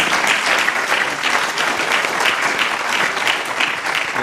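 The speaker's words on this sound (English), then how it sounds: "we can applaud for that" An audience at a Spokane gathering celebrating the NAACP's 100th year claps steadily and warmly, a dense even applause with no talking over it.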